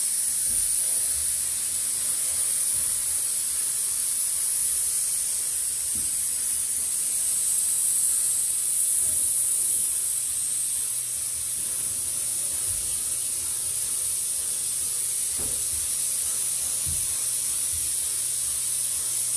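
A paint spray gun hisses continuously while applying a single coat over Bondo filler on a car panel, a steady close airy spray with faint clicks and handling noises underneath.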